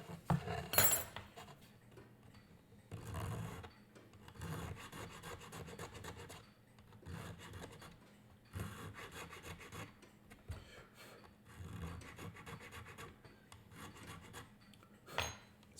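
A wooden violin bow stick is hand filed while chamfering its corners during rounding, producing close, rhythmic rasping strokes in repeated bursts with short pauses between them.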